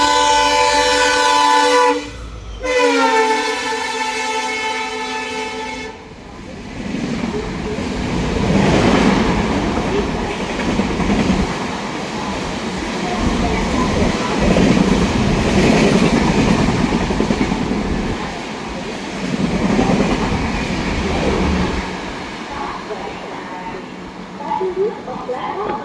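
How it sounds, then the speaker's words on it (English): A non-stopping fast train passes a station platform. A loud horn blast opens the sound, then a heavy, continuous rumble and clatter roll past close by, with announcement speech in the background. "As a non-stopping fast train is about to pass"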